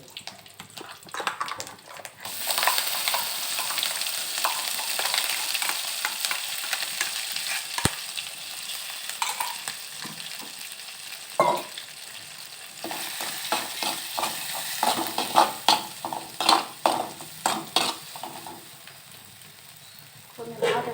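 Lentils (pappulu) roast in a pan for chutney under a steady, bright sizzle, with scraping stirs that turn into rhythmic clatter toward the end.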